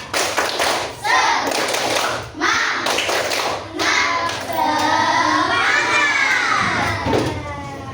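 A group of children claps in a rhythmic pattern for the Indonesian "tepuk semangat" clapping chant while chanting loudly, with an adult voice leading between the claps.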